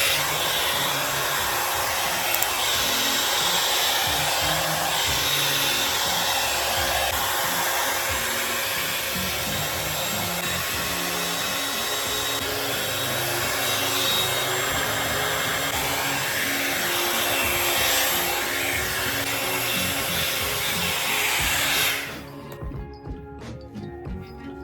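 A hot air brush hair dryer runs continuously at a steady, loud whoosh for about twenty-two seconds before cutting off, leaving faint clicks and handling noise.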